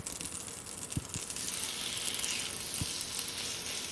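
Steady close sizzling of blackened mangrove snapper fillets frying in a pan, with a few soft clicks and knocks, no talking.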